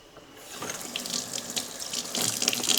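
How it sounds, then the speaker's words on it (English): Cold water runs from a kitchen faucet into a sink or pot for soaking peeled potatoes, a steady close splashing rush that grows stronger toward the end. "I'm just putting these in some cold water over here so they don't turn brown."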